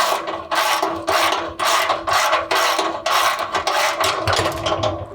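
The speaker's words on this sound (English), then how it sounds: "we're going to take off these 2 bolts to expose the oil filter pan" Ratchet wrench removing the skid plate bolts on a 5th-generation Toyota 4Runner (2010–2024): loud, close bursts of rapid clicking, about nine strokes in a steady back-and-forth rhythm, with no talking.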